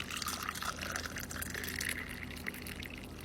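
Blue tea poured into a glass, a faint, steady liquid trickle with small splashy bubbling throughout a short moment.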